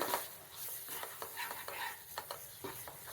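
Coconut milk sweet cooking in ghee in a pan, stirred with quick, soft scraping strokes, faint and close, with no talk.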